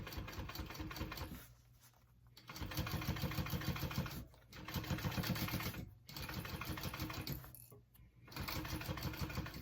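Sewing machine stitching a fabric diaper clutch closed, running in several loud close bursts of rapid mechanical whirring separated by short pauses.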